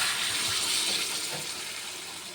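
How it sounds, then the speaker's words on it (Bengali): Water is poured into a pan of frying bitter gourd and potato curry, a brief, steady splashing gush with a hiss that fades slightly toward the end. "এখন আমি জল দিয়ে দেব।"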